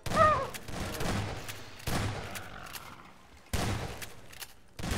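Rapid bursts of gunfire in Garry's Mod during a horror session, several loud volleys opening sharply and trailing off, with a brief shout near the start.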